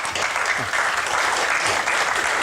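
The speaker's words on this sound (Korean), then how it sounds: "박수 한번 부탁드립니다." Crowd applause, a dense steady clatter of many hands clapping together for a couple of seconds.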